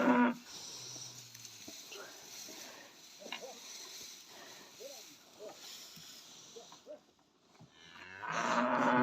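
Cattle mooing on a pasture cattle farm with calves, several low drawn-out calls from close by with a louder bellow near the end, over farm background noise and occasional voices.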